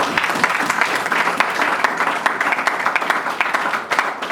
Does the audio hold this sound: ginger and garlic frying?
no